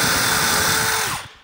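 A power drill bores a 6 millimetre hole into a mortise using a jig for a Lamello Zeta connector, a steady close whine that winds down at the end.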